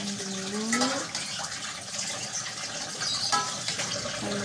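Water draining off boiled chicken and galangal for Padang-style fried galangal chicken, a soft steady trickle and splash running for several seconds with no talking.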